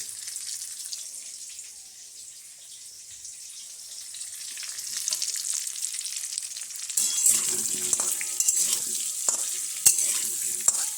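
Potatoes frying with salt in a pan, a soft hiss that swells into a louder, brighter sizzle with sharp clicks of stirring in the second half.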